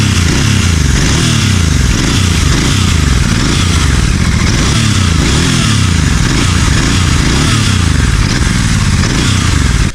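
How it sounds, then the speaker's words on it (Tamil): Royal Enfield Continental GT 650 with an inline twin-cylinder engine idling and revving, its exhaust note a steady loud rumble with repeated rising and falling throttle blips throughout, no talk. "இதோட எக்ஸாஸ்ட் நோட் எப்படி இருக்குன்னு சொல்லிட்டு நம்ம கேட்கலாம்"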